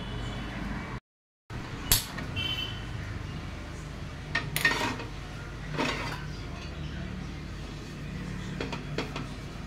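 Chopped tomato and green chili being stirred together in a bowl, giving soft scraping and a few light clinks of the utensil against the dish, quiet and close, with no talking.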